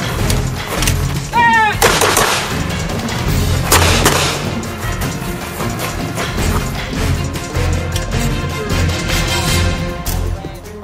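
Handgun shots crack out during a shooting drill on a range, a series of loud, sharp reports spaced irregularly, with some brief background noise between them.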